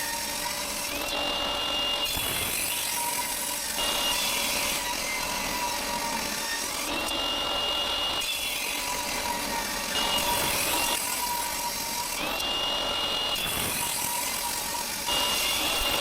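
Table saw ripping thin maple wood strips guided along the fence, a steady loud whine of the blade with repeated cutting passes swelling and easing every few seconds, no voices.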